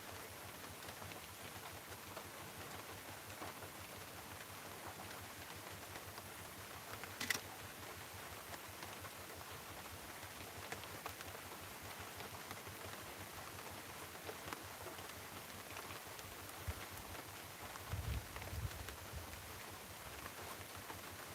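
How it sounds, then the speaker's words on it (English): Faint, steady hiss of heavy rain pouring down outdoors during an approaching storm, continuous and even, with a few small knocks and a brief low rumble near the end. "Might just be the heavy rain."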